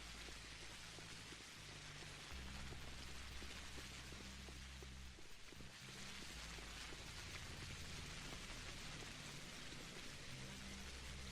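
Steady, dense rain falls through the gray night in Pathologic Classic HD, hissing evenly with faint low rumbles beneath. The sound continues unbroken with no voices.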